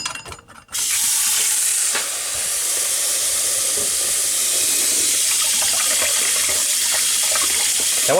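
Tap water pours steadily into a large saucepan in a home kitchen, a loud continuous rushing gush that starts abruptly and runs unbroken with no talk.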